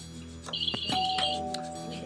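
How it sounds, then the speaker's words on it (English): A quiz contest buzzer bell rings with a single bright electronic ding-dong chime. Its tone rings on and slowly fades over a quiet room. "my bell went before you rang the bell"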